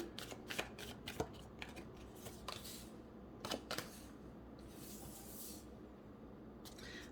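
Everyday Witch tarot cards shuffled by hand, a steady run of soft riffling and papery flicks with a few sharper snaps, close and continuous with no talking.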